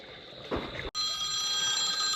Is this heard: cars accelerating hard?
no